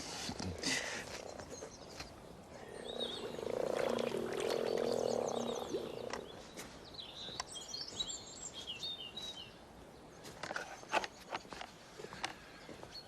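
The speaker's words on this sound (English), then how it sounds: "That croaking can grow and swell, and sometimes I can hear it from the house." Frogs croak in a garden pond, a swelling chorus of rattling calls that rises and fades, with birds chirping nearby and a few footsteps, fairly distant and soft.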